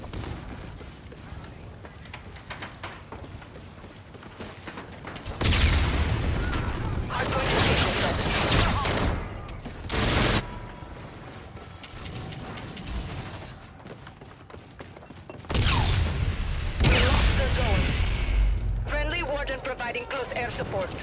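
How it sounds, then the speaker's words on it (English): Artillery bombardment in the video game Call of Duty: Infinite Warfare, with heavy booming explosions and rumbling blasts in repeated loud waves, mixed with game voice callouts. "Enemy bombardment incoming."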